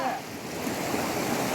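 Water rushes steadily at a waterfall outdoors, a broad continuous wash that is fairly loud and close, with no distinct breaks.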